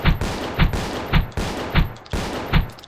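An enforcer shotgun in the game SS14 fires in rapid succession, five sharp blasts at a quick, fairly even rhythm, loud and close with no talk.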